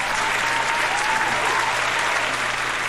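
Dense, steady applause from a large crowd fills the whole stretch, a continuous wash of clapping with a low hum underneath.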